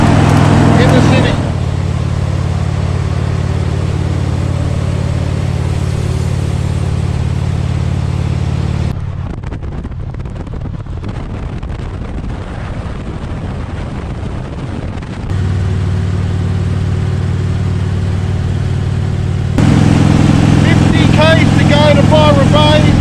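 A Harley Davidson motorcycle rides through city traffic, its engine a steady loud rumble mixed with wind buffeting, dipping for a stretch mid-ride before swelling again, with a rider talking at points.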